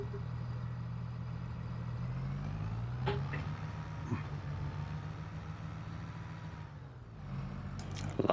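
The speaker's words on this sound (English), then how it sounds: "start the engine up" A tractor engine in Farming Simulator 22 drones steadily and low, holding one even note with a slight pitch shift near the end and a few faint clicks on top.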